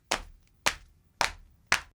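Four sharp, slappy footfalls in flip-flops land at an even pace, bright and close, with silence between each stomp.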